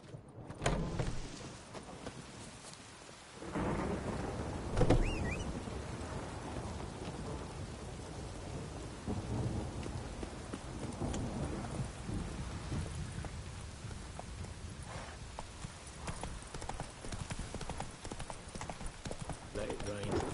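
Steady rain pours down in The Witcher 3, a dense broadband wash running through the scene alongside hoof clip-clop and occasional low rumbles, with a voice speaking over it.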